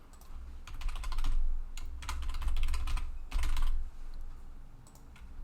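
Quick bursts of keystrokes on a computer keyboard, clustered clicking in several short runs with brief pauses between, close and moderately soft.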